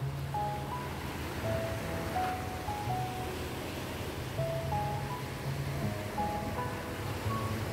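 Waves wash against the seashore on a Sunday evening at Waterfall Bay near Wah Fu Estate, a continuous rushing surf with wind and faint tonal sounds on top.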